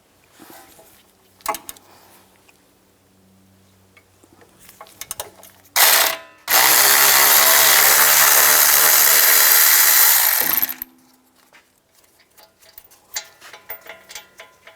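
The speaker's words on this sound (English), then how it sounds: "Take these inner bolts out. We're going to use a T55 socket." Ratchet wrench with a T55 socket spinning out inner brake caliper bracket bolts on a 2014-2022 Jeep Cherokee rear hub, a close, loud continuous clicking burst lasting about four seconds after a brief louder rattle, with quiet tool handling before and after.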